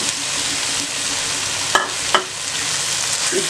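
Fried chicken and capsicum hiss in a pan at a steady, loud sizzle, with two sharp clacks of a spoon against the pan partway through as they are stirred.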